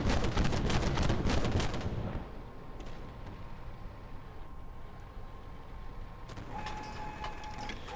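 A BMD-2 fires a missile in Armored Warfare, a sharp dense blast over the first two seconds that fades into a low rumbling tail with engine drone.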